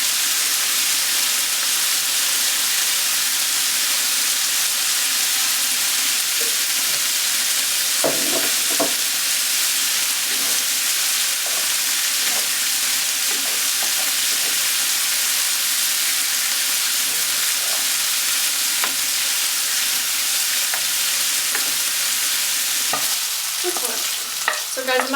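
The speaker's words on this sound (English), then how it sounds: "I don't know how sizzling this is going to be on the camera, so I'm sorry." Cheeseburger casserole sizzling in a pan, a steady close frying hiss with faint stirring clatter throughout, no talk.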